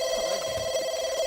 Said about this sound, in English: Will one of you answer the phone, please?